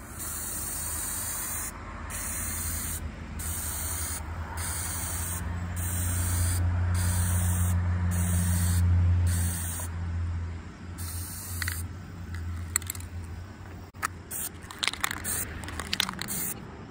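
Aerosol clear coat sprayed onto a 1960s road construction barricade light in repeated hissing bursts, a sustained spray in the middle, then scattered clicks and handling noises toward the end.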